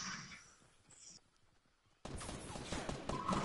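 Video game gunfire in a two-person squad match: faint, scattered shots at first, then a sudden, dense burst of rapid fire that stays loud until the end.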